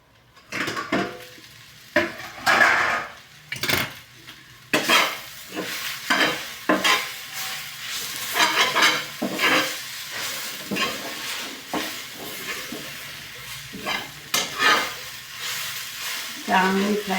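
Peanuts and brinjal stirred with a spoon in a hot kadhai, repeated scraping strokes in an uneven rhythm over a soft sizzle, with metallic clinks against the pan, close and fairly loud, no talk.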